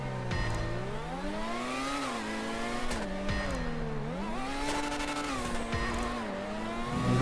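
Benefactor BR8 Formula 1 race car in GTA Online, its high-pitched engine revving and shifting continuously with rising and falling pitch, with brief tire squeals and no talking.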